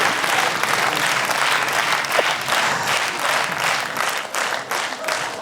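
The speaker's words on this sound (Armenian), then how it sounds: "Մեր ծափարությունները ձեզ։" An audience applauds a performance on a women's variety show, a dense, sustained wash of clapping that fills the whole stretch at steady loudness, with no voices standing out.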